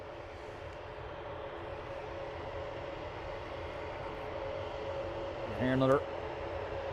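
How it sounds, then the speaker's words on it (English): An ATR turboprop airliner moving at Dublin Airport, heading off to Manchester, heard as a faint, steady engine drone far in the distance, with a short spoken phrase near the end. "ATR in the distance, which is EIHPK, heading off to Manchester"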